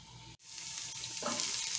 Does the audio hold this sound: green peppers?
yes